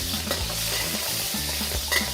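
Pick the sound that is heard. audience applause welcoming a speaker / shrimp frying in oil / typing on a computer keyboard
shrimp frying in oil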